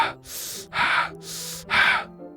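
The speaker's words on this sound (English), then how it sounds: "It sounds like breathing. A sharp inhale, like someone is sucking the air through their teeth." Sharp breathing inhales in Doki Doki Literature Club, four hissy airy bursts, like air sucked through teeth, evenly spaced and fairly close, alone with no talk.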